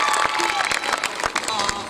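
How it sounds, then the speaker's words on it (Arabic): An audience at an outdoor poetry gathering in a park claps in dense, uneven bursts, a busy patter of many hands close by, with a voice mixed in over the applause. "تصفقين لي والله صفقوا لها صفقوا الخاطر هذا"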